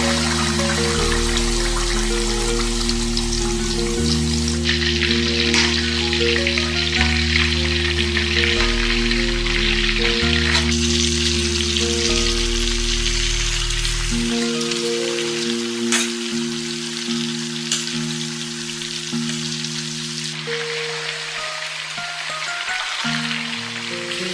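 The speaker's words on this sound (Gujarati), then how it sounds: "કુકિંગ ઓઇલ સરસ ગરમ થાય એટલે આપણે આપણા ચિકનને ફ્રાય કરવા મૂકી દઈએ" A whole tandoori chicken frying in hot cooking oil, a dense, steady sizzle like heavy rain that carries on unbroken, close and loud, with a low hum beneath.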